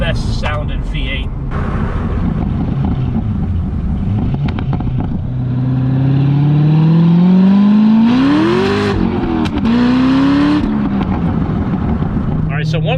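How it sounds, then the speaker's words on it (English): A Corvette Z06 with an LS7 V8 revs hard, its rising engine tone climbing and falling through several pulls with crackling, popping exhaust, loud and close under steady talk. "It's got the crackles, the pops. Sounds amazing. The LS7 is by far the best sounding V8."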